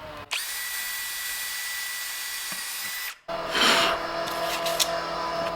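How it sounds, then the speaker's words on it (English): Neighbours' power drill working across the road, a loud steady whine held for about three seconds, then a rougher grinding run with scraping bursts. "I'm sure you can hear that drill."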